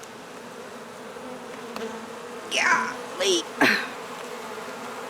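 A swarm of bees buzzes steadily around a large, heavy hive during a transfer into a top bar hive, with a dense hum throughout and a few louder passes close by, plus a brief exclamation from a person.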